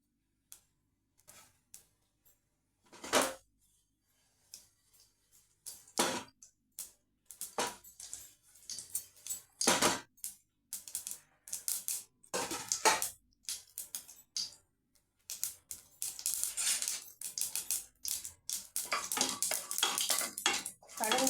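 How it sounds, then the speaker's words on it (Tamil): Mustard seeds and urad dal spluttering in hot oil for a dried fish curry, irregular sharp popping crackles that start sparse and grow denser and more continuous over time. "நல்லா கடுகு பொரியட்டும்"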